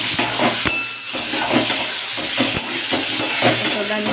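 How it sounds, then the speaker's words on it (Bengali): Mung dal and small pieces of pointed gourd frying in a pan, a steady sizzle broken by repeated scrapes and clanks of a spatula against the metal, close and fairly loud, no talking. "ডালটাকে ভালো করে ভেজে নেব।"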